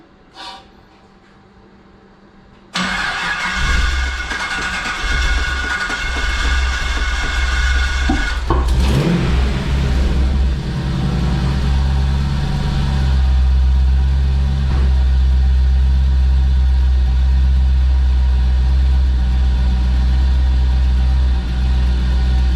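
V8 engine swapped into a Nissan G35, running with its intake filter on: a loud, steady, deep idle drone that starts abruptly after a quiet moment and holds for the rest of the clip.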